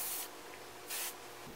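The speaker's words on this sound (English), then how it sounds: "I also like putting a little bit more of the Creation Spray and just kind of putting it all over my hair" Creation Spray hairspray applied over hair for beachy waves, two short close hissing bursts separated by a brief pause, soft and clean with no voices.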